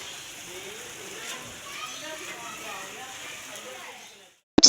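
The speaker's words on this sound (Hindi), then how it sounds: "कितनी तेज बारिश शुरू हो गया जी।" Heavy rain pours steadily as a broadband hiss during a house move, loud and continuous for several seconds before cutting off abruptly.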